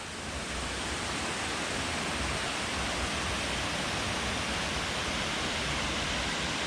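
Dog Slaughter Falls thunders in a steady, dense roar of falling water, loud and unbroken throughout with no other sounds standing out.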